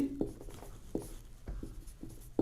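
Pen writing a definition by hand on paper, with quiet, close scratchy strokes that come in short repeated bursts and no talking.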